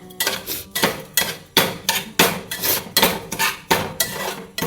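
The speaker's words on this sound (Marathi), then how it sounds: "आता जी साखर टाकली ती व्यवस्थित मिक्स करून घ्यायची, जेणेकरून साखर चांगली रव्याला लागेल" Sugar stirred into roasted semolina in a pan for rava sheera, a spoon scraping and clanking against metal in a steady repeated rhythm of strokes, close and loud with no talking.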